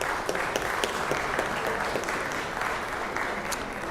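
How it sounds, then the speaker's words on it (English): Sustained applause fills a state senate chamber, steady dense clapping from a seated crowd of legislators and guests, loud and continuous throughout with no speech over it. "give them a round of applause,"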